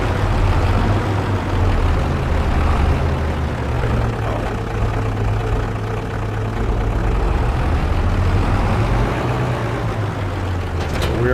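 A tractor engine in Farming Simulator 25 drones steadily at close range, a heavy low diesel rumble holding an even idle throughout with no talk over it.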